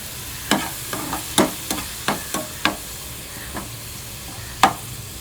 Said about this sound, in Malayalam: ഇത് തീ കൂട്ടി തന്നെ നമുക്കൊന്ന് ജസ്റ്റ് എല്ലാ സൈഡൊന്ന് മൊരിച്ചെടുക്കാം